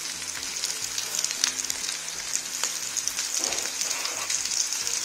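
Green chillies sizzling and crackling in a pan, a continuous bright hiss with scattered pops and light stirring, fairly quiet and with no voice.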